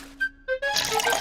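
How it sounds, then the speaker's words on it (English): Water poured into a plant pot in a cartoon scene, heard as a short liquid fill and splash with a rising pitch, preceded by brief tonal blips, close and moderately loud. "Now put water in the pot."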